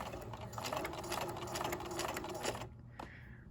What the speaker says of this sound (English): I'm going to put my presser foot back down, sew forward a little bit.